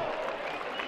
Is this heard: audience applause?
yes